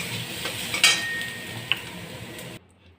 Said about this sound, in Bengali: আর বেশি ভাজবো না, খোসাটা কিন্তু ভাজা হয়ে গেছে।